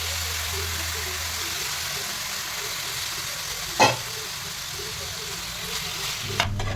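Small pieces of chicken gizzard frying in a pan for pepper fry, giving a steady close sizzling hiss with one brief clatter midway and another near the end, with no talk.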